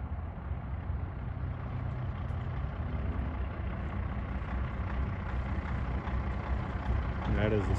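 A 1500 horsepower diesel truck engine rumbles loud and steady at a burnout event, a continuous low heavy drone throughout with crowd noise and voices mixed in, and a brief hiss near the end.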